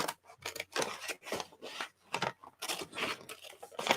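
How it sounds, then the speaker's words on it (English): Scissors snip and slide along the folded edges of paper or fabric in quick, close, repeated strokes with short pauses between cuts, no talking. "I'll get my scissors and I trim along"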